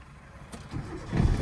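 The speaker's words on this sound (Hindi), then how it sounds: "अब क्लच दबा के इंजन ऑन करो" A car engine being started during a driving lesson, a low rumbling crank that swells and catches over about a second, close and fairly loud, with no talking.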